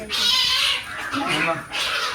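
A cat vocalizes with breathy, hissing cries over about two seconds, close by, with some background noise.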